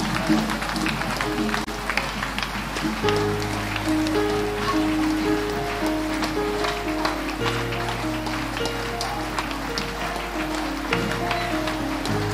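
Congregation at a prayer service claps hands continuously in a dense, steady wash of clapping. A sustained keyboard or organ tone plays beneath it throughout.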